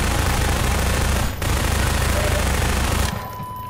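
An SMG firing in Half-Life 2, a loud, continuous rapid burst with one brief break, then stopping abruptly.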